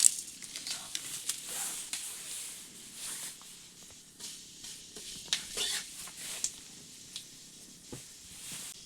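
Five-spice seeds tempering in hot mustard oil in a wok, giving a faint, steady crackling sizzle with light scattered pops and occasional stirring scrapes throughout.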